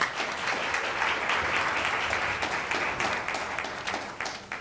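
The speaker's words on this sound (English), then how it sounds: "Please give him a round of applause." An audience applauds steadily and fairly loudly for an athletic director being introduced at a morning press event for a new women's basketball coach, sustained dense clapping without talk over it.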